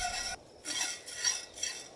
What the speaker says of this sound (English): it's really important to continue to stir.